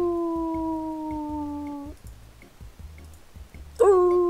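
A dog howls sadly in a long, steady, mournful tone that fades out. After a short gap with soft tapping, a second loud howl begins, close and clear.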